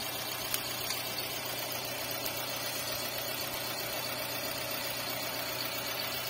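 Suzuki Cultus car engine idling in good condition, a steady, even mechanical hum with a faint whine, close and continuous for several seconds, with no talking.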